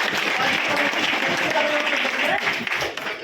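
Audience clapping at a property-selling seminar, a steady wash of applause filling the room throughout, fairly loud and close.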